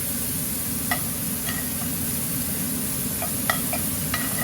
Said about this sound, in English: And we're going to cook these onions down.